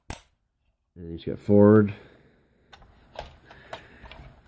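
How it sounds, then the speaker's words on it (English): Ratcheting leg joints on a RiD Power Surge Bumblebee toy robot click in short sharp bursts at close range, with someone speaking briefly in between. "he's got outward leg ratchets"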